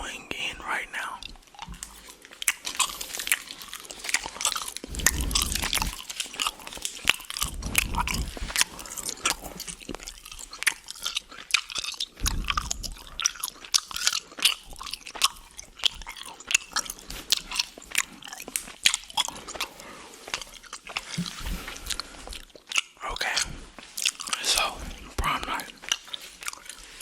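Close-up ASMR gum chewing with wet, sticky mouth clicks and smacks repeating steadily throughout, mixed with soft whispering right at the microphone.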